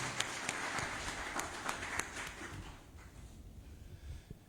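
Audience applause for a panel member at a cybersecurity conference panel, a dense patter of clapping with sharp individual claps that thins out and fades toward the end.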